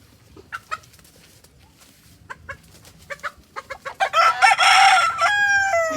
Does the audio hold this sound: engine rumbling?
no